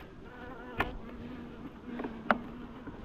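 Honey bees buzz steadily at an opened hive being inspected after the colony consumed its honey crop, a continuous low drone with a couple of brief sharper knocks or clicks near the microphone.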